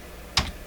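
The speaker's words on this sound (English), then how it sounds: "I'm just going to type in" A single brief clack of a computer keyboard key being struck, close and fairly crisp, in an otherwise quiet room.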